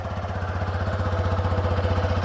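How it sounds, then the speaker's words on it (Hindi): A Honda 160cc motorcycle engine idles steadily, putting out a close, even, rapid pulsing thump at a constant pace with no voices. "आइडियल कंडीशन पर इंजन साउंड"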